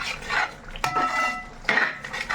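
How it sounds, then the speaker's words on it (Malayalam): Beef curry being stirred in a pot on a wood-fired stove, a few metal scrapes and clanks of the spoon against the pot over a low simmering bubble, no voices. "നമുക്കിതൊന്ന് ഇളക്കി കൊടുക്കാം കേട്ടോ"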